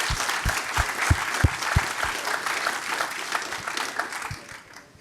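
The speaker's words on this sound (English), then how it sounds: "I think we can give them another round of applause" Hall audience at a community health worker event applauds warmly, a steady wash of many hands clapping that slowly tapers off over about five seconds, with a few low thumps.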